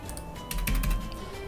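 A few light clicks of computer keyboard typing, soft and close, with a steady electronic hum running underneath.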